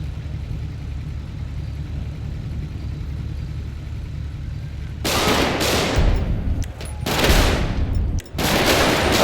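In the police mod LSPDFR, a steady vehicle engine hum is suddenly broken by a loud, close barrage of gunshots in several bursts with brief pauses between them.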